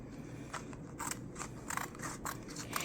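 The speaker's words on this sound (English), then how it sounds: "I am going to trim this so that it doesn't get in the way" Scissors snipping tape on a handmade luggage tag, several sharp close cuts in an uneven rhythm, quiet with no talking.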